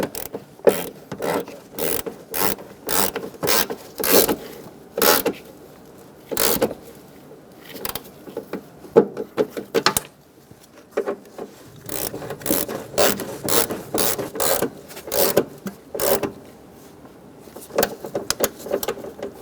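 A ratchet snugs down the valence panel bolts on a 1988-1999 GMC K1500 pickup: repeated close bursts of rapid ratcheting clicks, stopping and restarting in uneven groups, moderately loud and alone.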